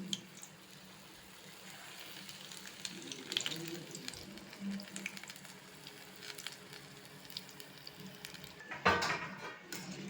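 Wheat flour bondas frying in hot oil on a medium flame, with a low steady sizzle and occasional bubbling and turning sounds, a brief louder splash near the end.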